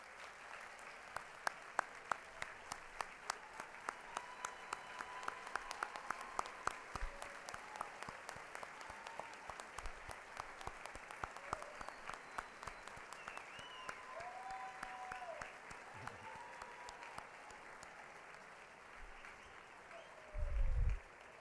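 A high school graduation ceremony audience applauds steadily for over twenty seconds, dense clapping heard from a distance at moderate volume, with a brief louder burst of noise near the end.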